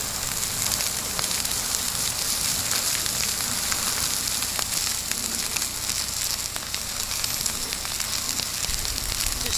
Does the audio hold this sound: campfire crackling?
yes